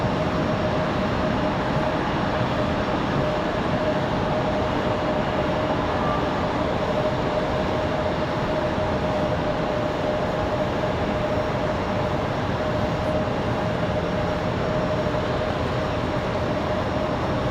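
Low, steady jet roar of a Republic Airways CRJ regional jet approaching Raleigh-Durham International Airport in windy conditions, a constant rumbling drone with a thin whine held throughout, no voices.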